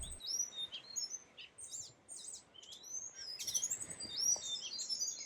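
Several birds chirp and twitter at sunrise in Madagascar in a lively, overlapping chorus, some close and some farther off, over a quiet outdoor background.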